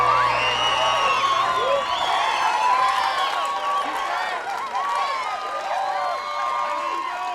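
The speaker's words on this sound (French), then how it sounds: "on applaudit tous très fort Aaron et ses musiciens" A large crowd cheers, whoops and shouts for musicians at a big race-day event, loud and continuous, with high excited voices overlapping throughout.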